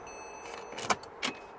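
A key pushed and turned in the ignition of a Porsche Boxster 987 with a sticking key fault, giving two short, sharp mechanical clicks a fraction of a second apart, close up in a quiet car.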